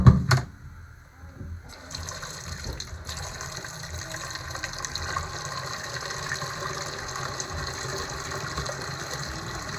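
Water gushing steadily through a cabin's plumbing from a freshly filled water tank, a brief loud burst and a quieter pause giving way to a continuous rushing flow.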